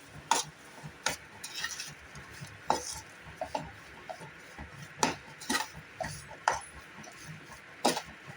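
Wheat flour and country sugar stirred in a pan for kada prasad, with a series of distinct scraping clinks of a spoon against the pan, repeating irregularly and close by, with no talking.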